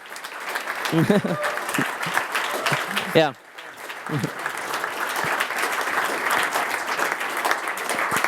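An audience at a business and energy-sector pitching event applauds, steady clapping filling the room with a brief spoken interjection near the start and then continuing unabated.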